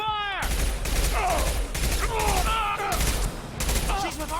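Rapid bursts of gunfire in Mass Effect 2, loud and close, with shouted voices breaking through the shooting.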